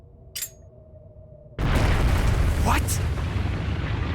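A bomb goes off in the video game Trails of Cold Steel: after a quiet stretch with a brief voice, a sudden loud roaring blast erupts and keeps rumbling on at full strength.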